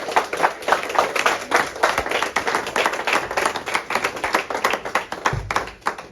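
Audience applause welcoming a guest onto a panel at a Congolese student event, a lively patter of many hands clapping close by with a rapid, uneven rhythm that carries on throughout.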